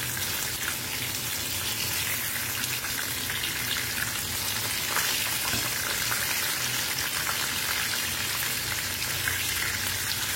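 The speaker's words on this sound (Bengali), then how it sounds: "এই ব্যাচের মাছটা আমার ভাজা হয়ে গেছে ভালো করে" Amudi fish fries in hot oil, Bengali style, giving a loud, dense, continuous sizzle that holds steady throughout with no talking.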